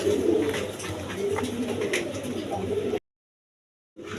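A pair of Sikh Gola pigeons cooing in a cage, low throaty coos repeating close up amid light chatter, then a sudden second of silence before sound resumes.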